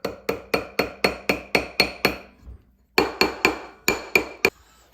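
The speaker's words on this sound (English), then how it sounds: "Now we're going to hammer it so that way it's the right size." A hammer strikes a metal ring shank in quick, evenly spaced ringing blows, a burst of about nine, a pause, then another run of taps, close and sharp.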